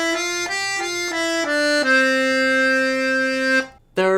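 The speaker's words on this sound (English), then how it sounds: "you can play a 5-finger scale very easily by moving one finger at a time" Piano accordion plays a five-finger scale: five connected reed notes step downward one after another, the last held long before the bellows stop, close and loud with no talking.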